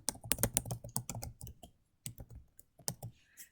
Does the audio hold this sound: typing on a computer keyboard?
yes